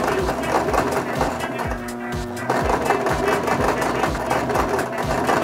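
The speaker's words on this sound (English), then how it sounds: "So now I'm just gonna sew along where the pins are." A sewing machine stitches along pinned fabric in quick rhythmic bursts of mechanical clatter, close and fairly loud, pausing briefly before running again.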